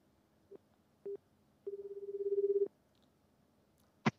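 A telephone call in progress: short ringback tone bursts, then a longer pulsing ring, faint and clean against near silence, ending with a brief click.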